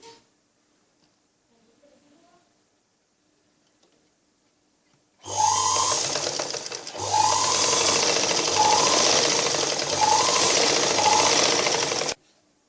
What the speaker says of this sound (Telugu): ఇప్పుడు మనం ఈ కింద నుంచి స్టిచ్చింగ్ చేసుకోవాలి